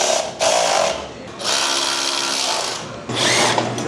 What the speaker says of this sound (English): Okay, so we're gonna put these bolts back in there.